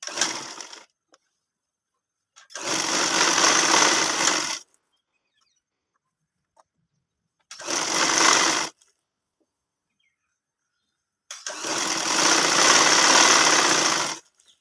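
A sewing machine runs in four separate bursts of stitching on a ladies' side pocket, each a loud, steady mechanical whir lasting one to three seconds, with silent pauses between.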